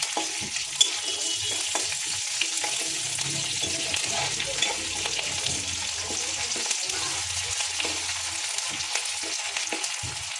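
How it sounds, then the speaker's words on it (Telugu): Ginger garlic paste fries with onions in a pan for an egg curry, giving a steady, close sizzle with intermittent stirring scrapes throughout and no talking. "అల్లం వెల్లుల్లి పేస్ట్ పచ్చివాసన పోయేంత వరకు వేయించుకుందాం."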